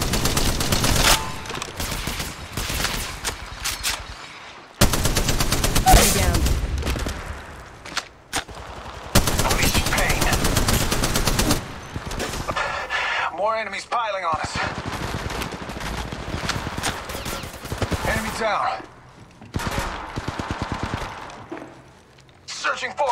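Repeated bursts of automatic gunfire from the Apex Legends Mobile shooter game, loud and dense, with short pauses between volleys and in-game character voice lines underneath.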